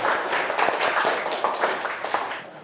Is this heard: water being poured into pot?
no